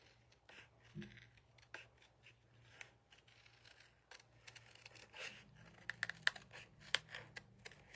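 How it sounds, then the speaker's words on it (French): Scissors cut with a series of faint, crisp snips and small rustles, quiet and close in an otherwise hushed room. "Je vais aller couper ici."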